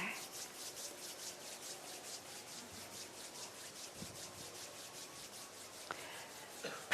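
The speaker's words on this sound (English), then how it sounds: "rub them against each other" Palms of the hands rubbing gently against each other at chest level, a soft steady rhythmic swishing friction, close and faint, continuing evenly without talking.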